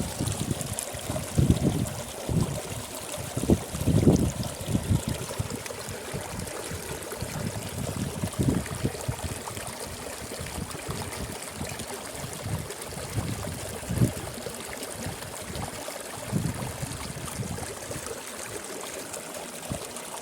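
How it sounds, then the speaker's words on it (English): A mountain stream in Aru Valley, Kashmir, rushes and splashes continuously for the whole stretch, a steady broadband wash with occasional louder surges, close and fairly loud, with no voices. "just see the ASMR sound of the water splashing"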